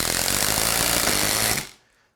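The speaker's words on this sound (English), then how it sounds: "I'll go ahead and put 2 of these into these stacked 2x4s" A Ryobi QuietStrike 18V ONE+ oil pulse impact driver (P290) drives 3-inch deck screws into stacked 2x4s, giving a loud, steady, dense pulsing buzz that runs unbroken for about a second and a half, then cuts off abruptly.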